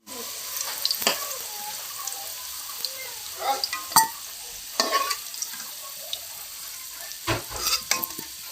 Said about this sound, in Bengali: আমাদের আলু লাল করে ভেজে নিয়েছি।